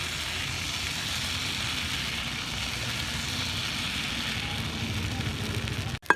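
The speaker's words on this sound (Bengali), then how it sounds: "এবার এইভাবে সবগুলো একে একে ভেজে নেব" Handmade chowmein noodles made from wheat flour dough fry in hot oil, producing a steady, dense sizzle that holds evenly throughout before a short knock at the very end.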